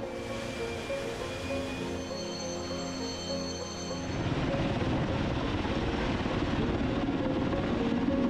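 Mil Mi-26 heavy helicopter, the world's largest, with turboshaft engines over 11,000 horsepower each, producing a steady loud mechanical drone with whining tonal components that grows louder and broader about halfway through, with no talk.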